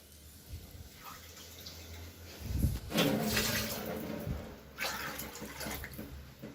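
Water poured from a cup into a cooking pot for prawn biryani, a soft splashing pour that swells around the middle and again near the end, close by and fairly quiet, no talking.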